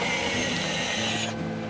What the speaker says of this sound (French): Et là, on a le volant qui s'efface entièrement dans la planche de bord.